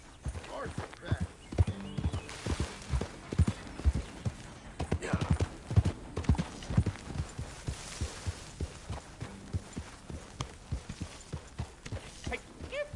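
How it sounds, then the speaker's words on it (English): Horse hooves clip-clop steadily in Red Dead Redemption 2, a regular close rhythm of hoofbeats that runs the whole way through, with character voices talking over it at times. "Hey, get that horse out of here."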